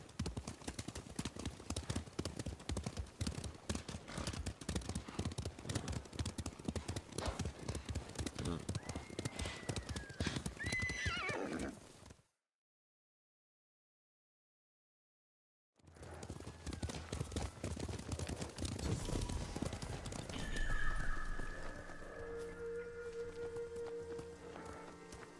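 Horse hooves clip-clop at a steady gallop in Ghost of Tsushima, dense and continuous, broken by a few seconds of silence before resuming with a brief neigh near the end, under faint game voices.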